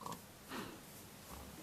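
A pig in a pen in the Minecraft video game gives a couple of short, faint grunts and snorts, quiet and brief with no speech over them.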